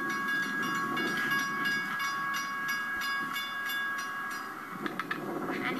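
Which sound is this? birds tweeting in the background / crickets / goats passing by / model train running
model train running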